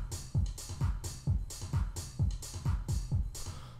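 A trance-style drum pattern programmed on Reason's Redrum drum machine: punchy bass drum hits repeating in steady four-on-the-floor rhythm with bright hi-hats and snare between, quiet and alone with no voices.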